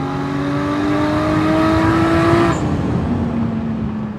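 A turbocharged 1JZ-swapped BMW E30 with an exhaust flap revs hard and loud up close, its engine note climbing steadily before dropping off and settling into a lower, rumbling drone.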